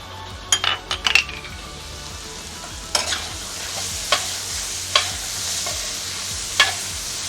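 Garlic sizzles in a pan for a beef stroganoff sauce, a steady frying hiss broken by a cluster of sharp utensil clinks and scrapes early on and a few more stirring knocks later, with no one talking.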